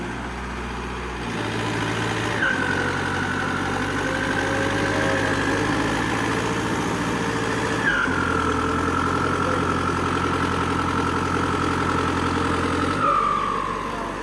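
A turbocharged tractor engine idles steadily at low revs, a continuous near rumble with a faint whine, held without gaps for the whole stretch and no talking.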